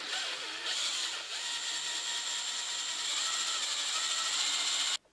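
Zip ties and hose clamps being cinched tight, a steady rapid ratcheting click that runs unbroken and fairly loud for about five seconds before cutting off abruptly.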